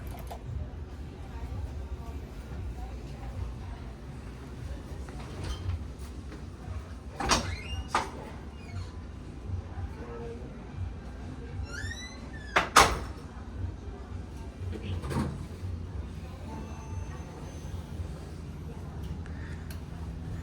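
An original Montgomery traction elevator door in a Nordstrom at a shopping center slides with soft rumbling and a couple of clunks, under faint ambient noise and quiet talk.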